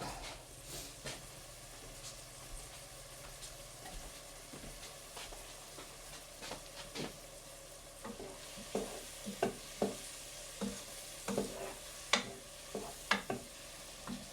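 Onions fry in a pan for sardine pasta, a steady close sizzle with repeated stirring scrapes that grow louder and more frequent toward the end.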